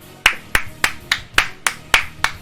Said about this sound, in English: Guys, round of applause for your performances there.